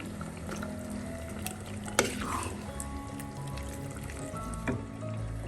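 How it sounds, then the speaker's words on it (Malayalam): A pot of chicken curry being stirred after salt is added, a soft continuous bubbling simmer with a few light scrapes and clinks of the spoon, one sharper knock standing out. "ഒരു ടീസ്പൂൺ ഉപ്പും കൂടെ ചേർത്ത് ഒന്നും കൂടെ ഒന്ന് മിക്സ് ചെയ്യും"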